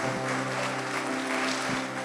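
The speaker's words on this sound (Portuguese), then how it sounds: "Você pode dar um aplauso para Ele." Church congregation applause, a short dense burst of clapping from many people, steady and fairly loud over a sustained organ or keyboard chord, with no voices heard over it.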